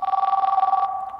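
A telephone ring sound effect played back in a mobile music-making app, a steady electronic two-tone warble pulsing rapidly for about a second before cutting off, alone with no voices.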